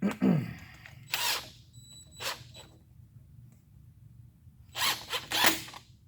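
A fitting on the intake piping of a twin-turbo C4 Corvette is tightened with a tool, producing several short, fairly quiet ratcheting bursts separated by pauses.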